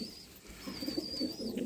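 Pigeons cooing softly nearby in a quiet setting, a few low repeated coos over faint background noise.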